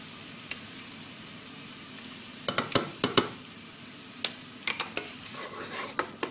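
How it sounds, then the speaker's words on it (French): Cream sauce with crème fraîche and onions cooks gently over very low heat in a pan while a spoon stirs it, giving soft scrapes and taps that come in bursts over a quiet, low bubbling. "Je mélange et je laisse cuire vraiment à feu très doux."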